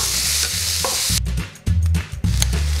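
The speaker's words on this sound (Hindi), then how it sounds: "इसमें टमाटर डाल देता हूँ करीबन 3 टेबल स्पून। इसको 2 मिनट पकाऊंगा मैं" About three tablespoons of tomato tip into a pan frying oyster mushrooms and green onions, giving a loud close sizzle broken by sharp stirring scrapes and a brief lull, with no talk.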